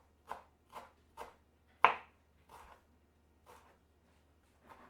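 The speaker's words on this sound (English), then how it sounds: "now we'll take a good bunch of dill and just chop that up as well." A good bunch of dill being chopped with a knife on a board for a Finnish tuna salad: about eight distinct, close, crisp chops spaced irregularly against near silence.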